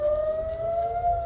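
Civil defense sirens wail during an air raid alert in Israel, a steady sustained tone that stays loud and unbroken across this short moment.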